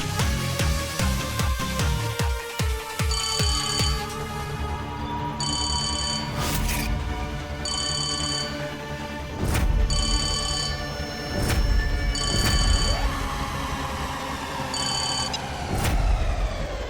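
A telephone rings in repeated bursts of bright electronic trilling, loud and close, over a dramatic music bed with sharp hits and no talking.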